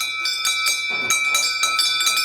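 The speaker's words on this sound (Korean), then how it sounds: "갑자기 빨래터를 울리는 종소리" A bell rings out repeatedly across an open-air laundry ghat in India at early morning, bright metallic strikes in an irregular rhythm, each leaving a lingering ringing tone, loud and fairly close.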